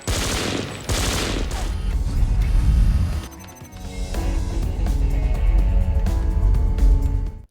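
Film scene with loud gunfire: sharp shot bursts at the start, then dense rapid automatic fire and booms rolling on for several seconds, close and intense, with no speech.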